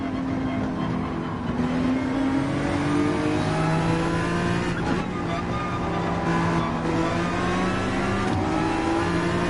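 A Nissan GT-R race car racing at the Nürburgring in Gran Turismo 7, its engine droning loud and steady as it accelerates, the pitch climbing through gears with brief dips at shifts.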